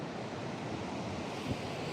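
Sea waves on the Mullaitivu coast wash in a steady, broad roar mixed with wind noise, with one slightly stronger surge near the end and no voices.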